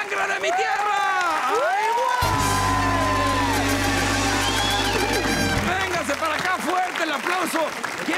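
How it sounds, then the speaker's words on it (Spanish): Studio audience at a Spanish-language family-feud style game show bursts into loud applause, cheering and whoops as the winners are announced, with a host shouting excitedly over the crowd and a sustained musical sting underneath. "¡El aplauso!"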